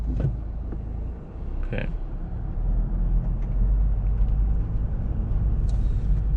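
A 2017 Mazda 3 with a 2.2-litre SkyActiv diesel engine pulls away, its low engine drone rising steadily in the cabin as a short spoken word comes early on.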